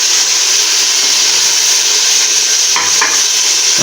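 Spices and tomatoes for beef biryani are stirred in a pot over a constant loud sizzle, with a couple of scraping knocks of the spoon near the end.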